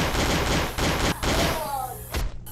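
Rapid automatic gunfire cuts down zombies in a shooting game, dense bursts of close, loud shots with brief pauses between volleys before the firing fades out.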